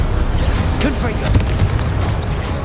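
Explosive Confringo spell blasts in Hogwarts Legacy during a duel: loud, dense booming bursts with crackling debris, continuous and close, amid busy combat noise.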